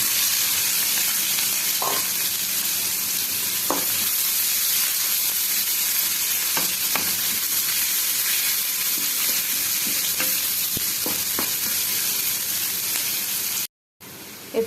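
Chopped onions fry in a wok (kadai) with bay leaf and whole spices, a loud steady sizzle and hiss running close and continuous with a few faint stirring clicks, cutting out briefly near the end.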